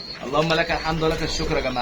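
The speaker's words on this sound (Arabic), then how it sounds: "حمام طاير فوق براحته اهو" Pigeons coo in a home loft, soft throaty calls repeating through a man's speech that runs over them.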